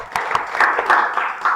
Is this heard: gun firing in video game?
no